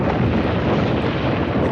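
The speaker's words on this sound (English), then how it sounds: "The wind really sounds like a storm." Stormy wind roars over the open Mediterranean Sea in a film soundtrack, a loud, steady broadband rush that fills the whole stretch without any break and with no voices.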